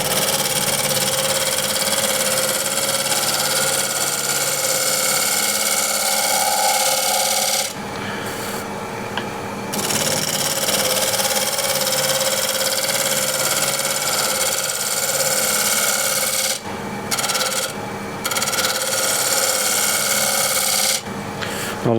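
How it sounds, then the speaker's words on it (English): Wood lathe spinning an elm bowl while a shear scraper works the surface: a steady droning hum with rasping scrape, briefly dipping a few times as the tool lifts off, no talk. "on the top half here I want to try with the scraper to see if that's is getting me a little better surface"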